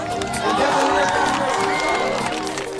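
A live show crowd cheers and whoops for bicycle stunt riders, a dense, steady wash of many voices close around, with shouts rising through the roar and no break across the few seconds.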